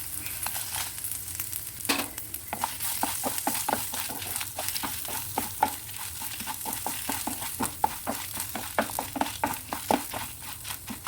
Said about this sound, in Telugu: మిర్చి కొద్దిగా లైట్గా ఫ్రై అయిన తర్వాత దీంట్లోనే జీలకర్ర వేసుకోవాలి